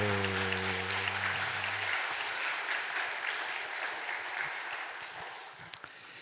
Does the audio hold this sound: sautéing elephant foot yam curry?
no